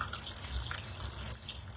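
Liquid is poured while cooking vegan Tom Kha soup, a short soft trickling and splashing with faint drips, close and quiet, with no speech.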